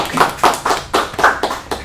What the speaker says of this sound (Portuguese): não, não, não precisa aplaudir